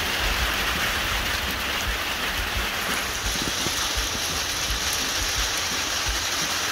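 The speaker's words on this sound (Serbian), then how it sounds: "i vidite kako pada kiša." Steady rain falls over a raspberry plantation, a continuous close hiss of drops on surfaces holding evenly for several seconds with no talk over it.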